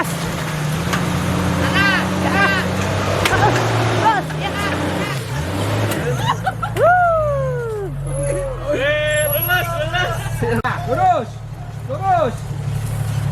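A Jeep JK with bypass shocks revs its engine while crawling an off-road trail, the motor rising and falling in loud close surges amid shouting voices and chatter.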